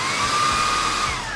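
Dreame T20 cordless vacuum cleaner on medium power, a loud continuous motor whoosh with a rising-falling high whine, steady and close, no voices.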